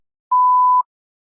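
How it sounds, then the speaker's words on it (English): One clean electronic beep, steady and mid-pitched, lasting about half a second in otherwise total silence. "Please begin speaking after the beep."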